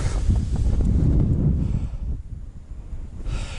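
Strong gusts of wind on winter ice while pike fishing buffet the microphone with a low, rumbling roar that eases briefly before picking up again.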